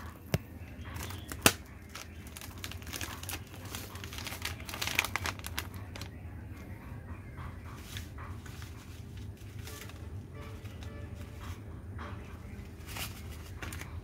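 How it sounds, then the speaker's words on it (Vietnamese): A new plastic packet is torn open and handled, giving close crinkling and rustling with a few sharp rips, followed by quieter scattered crackles over a low room hum. "Rồi tới cái gói kế tiếp, khui gói mới."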